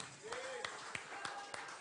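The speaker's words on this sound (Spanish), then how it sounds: "Dale un aplauso al Señor." A church congregation claps in a steady rhythmic beat, about three claps a second, softly in the background beneath a faint voice.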